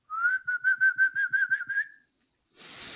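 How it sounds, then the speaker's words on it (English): A person whistles a quick run of about ten short, bright, evenly spaced tones close by, followed by a pause and then a soft burst of noise. "I learned the whistle."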